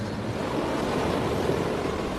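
Sea waves wash up on a beach by moonlight, a continuous broad rushing surge of surf with some wind, steady and fairly loud, with no voices.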